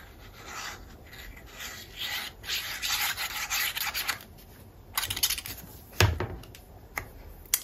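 A strip of paper for a mini album is trimmed by hand, giving soft scraping and rubbing strokes in irregular bursts, close by and fairly quiet, with a few sharper snips near the end and no speech.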